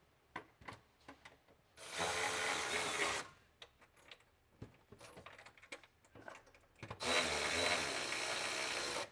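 A ratchet tightens the back bolt on a Lock-N-Load Pro strapless motorcycle transport mount in a garage, with quick close clicking strokes, then two long bursts of continuous rapid ratcheting.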